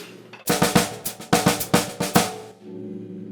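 A drum played with hand-to-hand sixteenth notes carrying improvised accents: a steady, close, rapid stream of strokes with louder accented hits popping out irregularly, then a short ringing decay.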